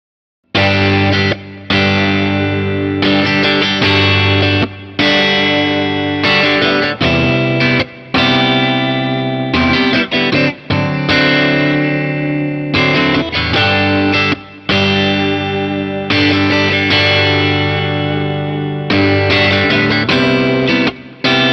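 An electric guitar played through overdrive distortion rings out in loud, sustained chords and notes, with short pauses between phrases and no talking.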